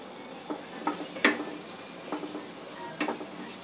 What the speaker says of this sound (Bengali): সামান্য একটু জল দিয়ে দিচ্ছি যাতে মশলাটা ভালো করে কষা হয়ে যায়